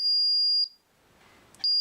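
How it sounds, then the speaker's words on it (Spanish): Paradox security alarm panel sounding a steady, loud high-pitched electronic beep, which cuts off for about a second and then resumes. "Nos está saltando la alarma"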